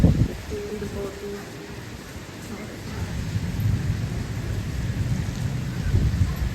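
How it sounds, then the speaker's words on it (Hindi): Heavy rain pours steadily during a thunderstorm, a dense loud wash with low rumbling thunder underneath, building slightly toward the end. "आज इतने दिनों बाद इतनी तेज़ बारिश आ रही है ना"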